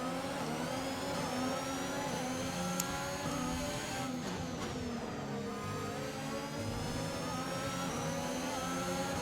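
Haas Formula 1 race cars in F1 2021 at the Canadian Grand Prix, a steady high-pitched engine whine that holds constant with slight pitch shifts for several seconds.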